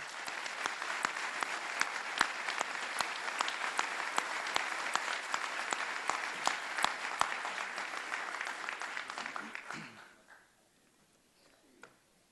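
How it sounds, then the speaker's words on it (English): A large ceremony crowd at a 2015 police honor awards event gives a long, dense round of applause for a high school team. The clapping stays loud and even for about ten seconds, then cuts off to near silence with a few stray claps. "I'd like to give a round of applause to the Franklin Central High School Blue Team."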